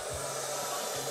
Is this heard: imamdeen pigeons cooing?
no